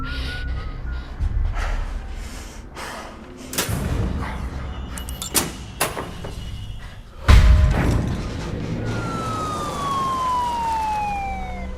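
Thuds and bangs at a gas station give way to a wailing police car siren that rises and falls, sounding somewhat distant behind the other noise.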